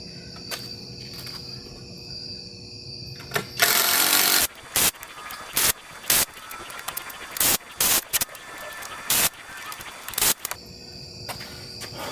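A power drill drives screws into the wooden frame of a backyard chicken coop, with a long whirring burst followed by a series of short, loud, stop-start drill bursts between quieter pauses.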